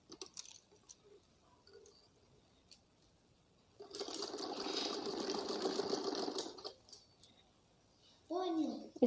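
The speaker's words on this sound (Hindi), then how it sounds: "ये सीधा करके इसके ऊपर एक सिलाई लगा लेते हैं।" A sewing machine runs in one steady burst of stitching on an umbrella frock, lasting a few seconds between quieter handling noises, with a short voice at the end.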